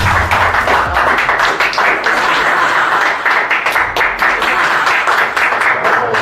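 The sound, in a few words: audience applause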